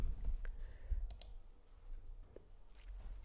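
Typing on a computer keyboard at a desk, with a few scattered, quiet key clicks over a low background hum.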